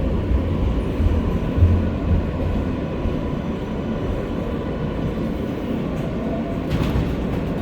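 An R143 NYC subway car on the L line riding an outdoor stretch toward Rockaway Parkway, giving a steady, moderate rumble of wheels and motors with light rhythmic track clatter throughout.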